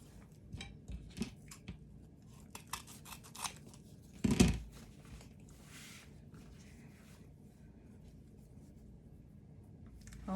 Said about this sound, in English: Always fold them in half and cut them on an angle inwards.